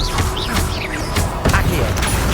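A Confringo blasting spell fires in Hogwarts Legacy, a short burst of crashing, thumping impact sounds with whooshing effects, loud and dense over busy game noise and music.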